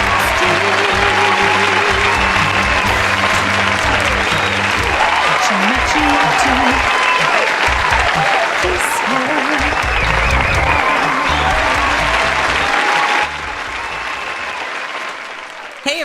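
A studio audience applauds continuously and loudly for the host of a Christmas-episode talk show. The dense clapping holds steady for the full stretch, then drops to a quieter level near the end.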